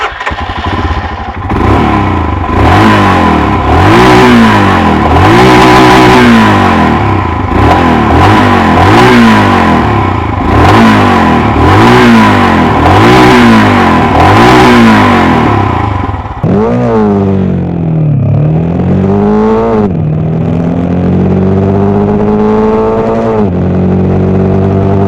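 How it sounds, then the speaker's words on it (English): A fuel-injected Royal Enfield Himalayan motorcycle engine is revved up close in a regular series of loud rising and falling throttle blips, then settles into a few slower revs near idle. "there are still quite a lot of noises creeping around from the engine"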